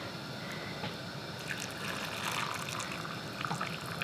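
Hot water pours and trickles steadily into canning jars of chickpeas, a close, continuous splashing fill with no talking.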